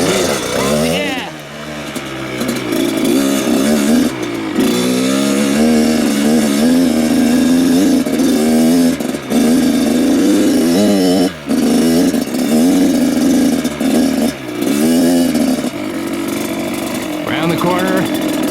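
A two-stroke motocross bike engine revs loud and close, its buzzing note rising and falling almost without a break while a person talks over it.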